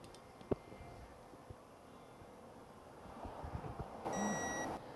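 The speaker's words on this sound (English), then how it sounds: "makes a beep or a vibrate and lets me know that I've reached the torque that I needed" A torque wrench emits a short bright electronic beep once it reaches its set torque of 198 foot-pounds while a wheel bearing hub is refitted on the spindle, heard near the end over faint workshop noise.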